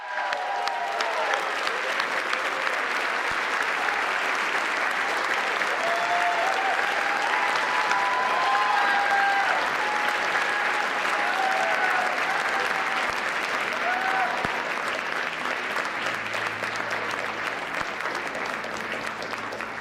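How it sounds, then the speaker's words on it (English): Sustained applause from a large crowd at a formal press dinner, a dense continuous clapping roar filling the whole stretch and fading only slightly toward the end. "let's give him a big round of applause, Josh Dawsey of the Wall Street Journal"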